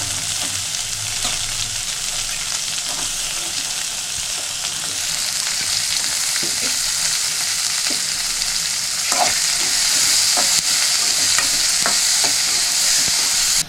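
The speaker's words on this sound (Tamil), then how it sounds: "இப்போ வந்து வெங்காயம் போட்டுக்கிறேன்" Chopped onions fry in a pan with a steady loud sizzle and occasional scrapes and taps of stirring, close up with no speech.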